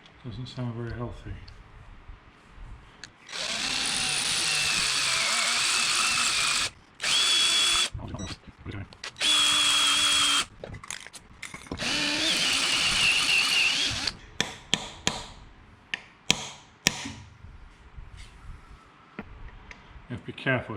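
A power drill bores a 4 mm hole in a part from a 1600 crossflow engine being prepared for a Mk2 Escort. It runs in several loud, sustained whirring bursts with short pauses, followed by scattered sharp taps and clicks.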